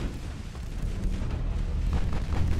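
Naval artillery guns fire in a warship video game, 152 mm shells against a battlecruiser, heard as a dense, continuous rumble of booming shots and low-frequency blasts throughout, with no talk.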